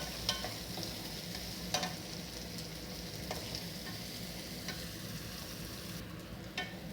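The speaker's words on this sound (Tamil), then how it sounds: "பொடியாக கட் பண்ண மீடியம் சைஸ் வெங்காயம் 2 நல்லா போட்டு வதக்கிக்கணும்." Chopped medium onions sautéing in oil in a pan, a soft, even sizzle at low level with occasional light scrapes and clicks as they are stirred.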